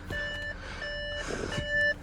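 A 2014 Audi A6 Premium Plus Quattro locks itself and gives a series of thin electronic beeps in a steady on-off pattern, close by over low ambient hum.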